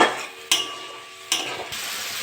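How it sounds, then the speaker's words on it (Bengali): Spice paste with a splash of water sizzles in a pan after tomatoes for a potato curry, a close hissing fry with a few louder bursts as it is stirred. "মশলাটা ভালো করে কষে নেব।"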